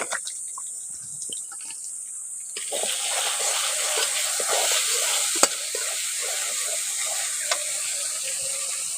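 Spice paste with chili powder and ground cumin frying in a pan, a quiet crackle that jumps to a loud, dense sizzle as it fries, with occasional sharp clinks of a spoon.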